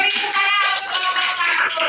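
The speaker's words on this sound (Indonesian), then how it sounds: "beri tepuk tangan untuk kelompok" A group of students is applauded at a school, with dense, steady clapping from many hands that fills the room continuously for a couple of seconds.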